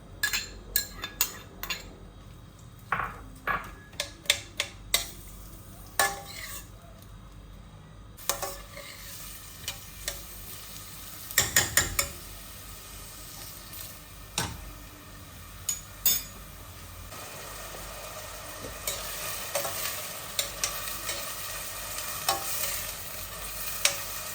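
Onions frying in vegetable oil in a pan give a steady sizzle, broken by sharp clinks and scrapes of a utensil stirring against the cookware, close up and without talk.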